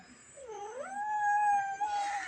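Two cats in a backyard, one chasing the other, give a single drawn-out yowl that rises and holds steady, fairly faint against quiet surroundings.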